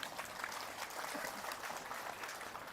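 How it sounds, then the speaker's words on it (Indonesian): An audience applauds at a Hindu dharma wacana talk, a dense, steady patter of many hands clapping at a distance, fairly faint and continuous throughout. "Tepuk tangan dulu nih"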